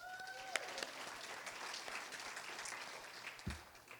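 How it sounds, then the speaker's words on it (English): An audience at a Haverhill Reads community event at Consentino Middle School, Haverhill, in 2018 claps in a sustained round of applause, moderately distant and even, filling the room for several seconds. "we can still give him a round of applause"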